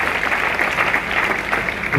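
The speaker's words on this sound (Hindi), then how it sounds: "जोरदार ताली होना चाहिए तारा जी के लिए" Hall audience at a recognition program applauds for an honoree in a steady, fairly loud burst of clapping lasting throughout, without pauses.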